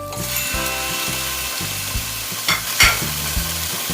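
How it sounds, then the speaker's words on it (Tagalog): Chicken pieces browning in a hot pan for three cup chicken, a constant oily sizzle broken by regular scraping stirs, close and without talk. "So itong chicken, ipapa-brown lang natin siya ng konti."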